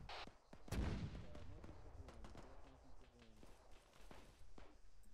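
Gunfire from a weapon in the video game TSB: a sharp close shot followed by scattered fainter reports and mechanical clatter, with a voice talking underneath.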